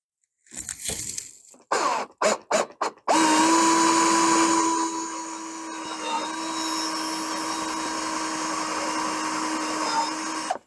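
A power drill starts in a few short bursts, then runs continuously with a loud steady whine as it bores through a board, nearby and alone.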